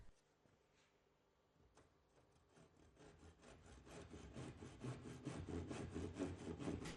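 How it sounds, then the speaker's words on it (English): A tenon saw cuts through a piece of timber clamped in a vise, starting with a few tentative strokes, then settling into steady, rhythmic back-and-forth rasping that grows louder and faster, heard close and alone. "Secure the section of timber in a vise and use a tenon saw to cut just inside of the pencil"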